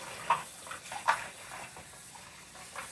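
Field peas and okra are rinsed under running water in a kitchen, giving a soft steady trickle broken by a few splashes and clinks of the bowl, with no talking.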